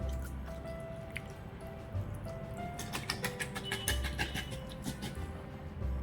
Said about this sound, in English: I will now strain the fruits that I had soaked